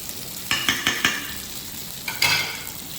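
Spice paste and tomato fry in a pan for an oily, spicy koi fish curry: a loud sizzle with a quick run of spatula scrapes, a pause, then another burst of stirring.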